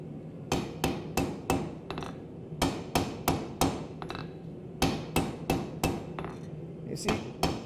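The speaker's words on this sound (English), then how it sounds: "Bigger hammer." Heavy hammer blows strike hot steel during multi-bar pattern welding, in quick bursts of two or three, ringing sharply with short pauses between groups, close and loud.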